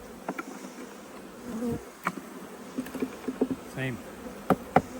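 Honey bees buzz around hive frames in a steady, close drone, with individual bees zipping past in short louder passes and a few faint handling knocks, no talking.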